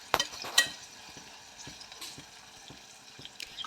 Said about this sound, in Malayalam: അപ്പോൾ ഇതൊന്ന് ഒരു ഗോൾഡൻ ബ്രൗൺ നിറമാകണം, അതുവരെ ഒന്ന് വഴറ്റിയെടുക്കാം.